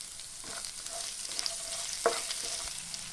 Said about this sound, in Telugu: ఇప్పుడు వచ్చేసి ఆనియన్స్ ముక్కలు కూడా వేసుకొని కలుపుకోవాలి.